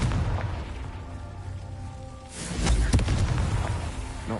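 A Confringo fire spell explodes in the video game Hogwarts Legacy. A loud, close, booming burst hits midway after a quieter rumbling stretch, then crackles and thumps linger.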